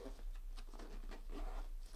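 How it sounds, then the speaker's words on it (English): A Lowepro Adventura SH 140 III camera bag holding a Canon 400D is zipped shut, a quiet rasping zipper run with soft scuffing, close up and with no talk. "Zips up"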